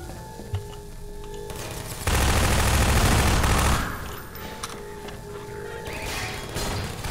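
Automated turrets firing in Half-Life 2, a loud sustained burst of rapid gunfire in the middle over a steady background hum, with faint game sounds before and after.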